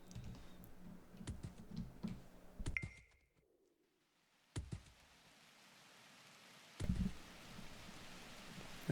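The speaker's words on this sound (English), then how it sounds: "Here comes the rain." Rain in the strategy game The Universim sets in as a soft, steady hiss that fills the scene, with a few sharp clicks and thumps early on, then a quiet gap before the wash of rain builds and holds.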